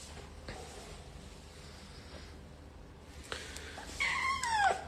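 A pet cat meows near the end, with short rising and falling cries over low room noise; the earlier part holds only faint background sound.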